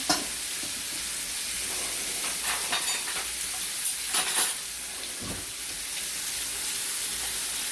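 Burgers, onions and bacon fry together in a hot pan, giving a loud, steady, close sizzle with a few brief stirring scrapes rising above it. No one speaks.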